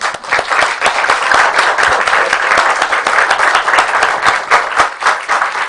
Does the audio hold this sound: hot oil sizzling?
no